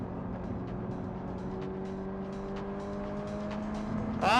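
A Subaru BRZ tS laps Laguna Seca with a steady, close engine drone, and a brief tire squeal rises right at the end.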